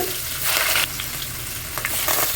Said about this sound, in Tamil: இப்போ கட் பண்ணி வச்சுருக்கிற ஆனியன் போட போகிறேன்.